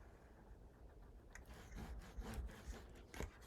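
Paper being burnished flat onto a page of a handmade spooky-themed mini album, a close, soft rubbing and scraping in short repeated strokes with no voices.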